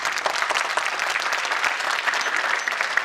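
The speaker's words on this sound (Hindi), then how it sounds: "के लिए ताली बजाओ जोरदार।" Loud, sustained applause from a crowd of children at a school annual function, a thick continuous patter of many small hands clapping with no break or talking.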